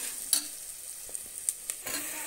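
Ginger paste fries in a pan for a beans and potato curry, a soft steady sizzle with a few sharp spoon scrapes and taps as it is stirred, fairly quiet and without voices.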